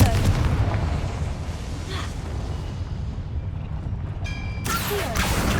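Confringo fire spell in Hogwarts Legacy, a fantasy video game: a dense rumbling blast with crackling low-end texture that continues throughout, and a sharp bright burst near the end, with a voice calling out over it.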